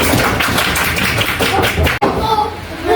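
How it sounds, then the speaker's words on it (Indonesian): A class of pupils claps hands together, loud crisp claps in a quick steady rhythm that stop abruptly for an instant and then resume, with children's voices mixed in. "Oke, tepuk tangan buat kita semua."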